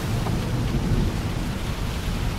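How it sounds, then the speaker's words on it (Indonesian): Rain falls steadily and densely, a continuous loud hiss with low rumbling beneath it, with no voices over it. "Sampai tiba-tiba hujan pun kembali turun."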